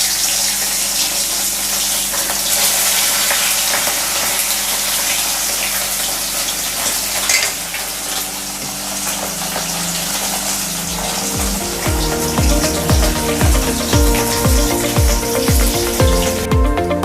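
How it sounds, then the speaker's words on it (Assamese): Fish fry in hot oil in a wok, giving a dense, loud, steady sizzle. Toward the end, rhythmic clattering thumps join the hiss. "এতিয়া আমি মাছকেইটা বহাই দিম"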